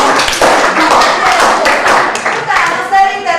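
A group of children clap together in a classroom, a dense burst of fast, loud hand claps running the whole time with some voices mixed in.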